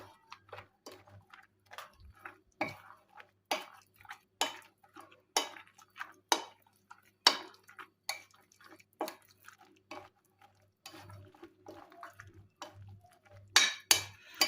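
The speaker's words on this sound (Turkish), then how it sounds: "Karıştırmaya kaşığımla devam ediyorum." A spoon stirring a soaked stale-bread börek mixture in a bowl, giving soft wet squelches and light clinks of metal on the dish at an irregular pace, close and quiet with no talking.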